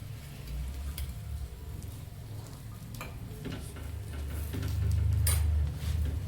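Gulpoli, sweet jaggery-stuffed flatbreads, roasting and being turned on a hot pan for Sankranti, giving a steady soft sizzle with occasional light ticks and scrapes, close and fairly quiet with no talk.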